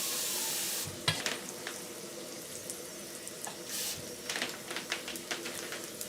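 Water poured into a hot pan of frying gyoza sets off a loud, steady sizzle that hisses and crackles throughout, with a few sharper spits and pops.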